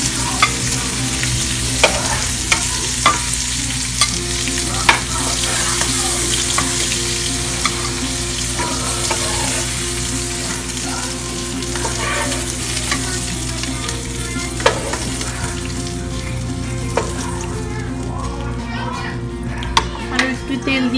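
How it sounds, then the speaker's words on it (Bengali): Prawns fry in a pan and are stirred, a steady sizzle punctuated by sharp clinks and scrapes of a spoon, with children's voices chattering in the background. "পাঁচ মিনিট আমি চিংড়িটা ভাজলাম,"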